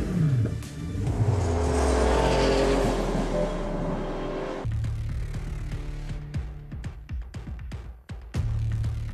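Pagani Huayra Roadster supercar on a performance test, engine roaring and rising in pitch as it accelerates, then a shift to rough, pulsing revs with sharp bursts close by.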